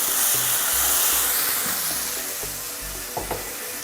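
Coriander and poppy seed paste frying in a pan while cooking drumstick chicken curry, a steady broad sizzle running throughout, close and fairly loud, with faint clinks of a stirring utensil near the end.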